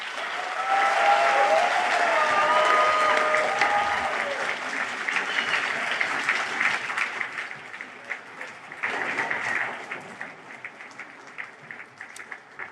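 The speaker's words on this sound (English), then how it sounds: "thank each and every one of your supporters with a huge round of applause" Graduates at a university graduation ceremony in Sydney applaud their supporters in a loud, full hall, the clapping swelling early then thinning and scattering toward the end, with faint voices and a brief tonal sound in the background.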